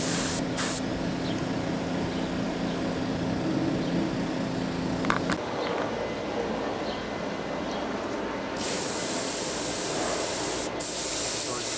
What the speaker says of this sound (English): I'd like to take advantage of this day to get some paint on the fuselage